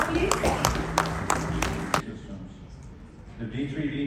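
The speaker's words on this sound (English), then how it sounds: "Can I have a round of applause, please?" An audience at a U.S.-India Business Council event gives a short burst of applause, a few distinct claps over a roomy murmur that stops abruptly halfway, leaving quiet room tone and faint voices.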